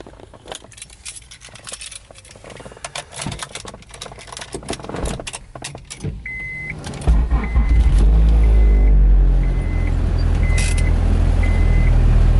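A car is started with its keys: keys jangle and rattle for several seconds, then the engine turns over and settles into a loud, close, steady idle while a chime beeps at regular intervals.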